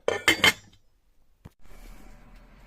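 A metal pot is shifted and lidded in a kitchen while a split grilled chicken roasts, giving a few close, bright clinks at the start, then quiet, one small knock and faint handling noise.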